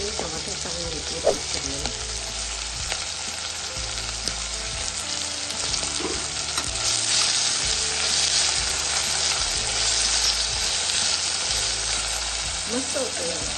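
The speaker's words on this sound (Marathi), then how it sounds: "त्यामध्ये हे टमाटर टाकून घेतले." Chopped tomatoes frying in a pan for a vegetable pulao, a steady loud sizzle with occasional stirring scrapes throughout, no talking.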